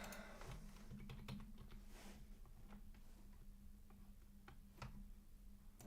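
Computer keyboard typing during a live stream: a steady run of quick, close key taps with irregular rhythm and a few heavier strokes, over a constant low hum.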